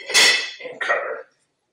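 A metal lid goes onto a stock pot of simmering roasted chicken stock, making a short bright clang followed by a second rattling settle as it seats, close and loud, then silence.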